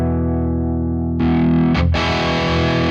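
Distorted electric guitar through the PolyChrome HyperRig Kiesel amp plugin, first held clean, then jumping noticeably louder and harsher once the boost engages, with a brief scraping break before sustained crunchy chords ring on alone.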